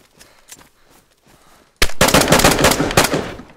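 Gunfire in the DayZ video game: after a quiet stretch, a sudden loud burst of rapid automatic shots rattles close by and continues for over a second and a half.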